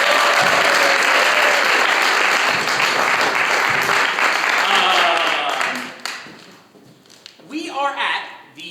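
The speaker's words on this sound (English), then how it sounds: "Ladies and gentlemen, give him another round of applause." A school theatre audience at a winter cabaret show applauds loudly and steadily for several seconds, the clapping then dropping away while cheers and voices rise near the end.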